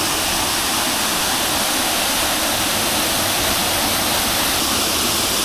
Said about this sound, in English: Look, the waterfall!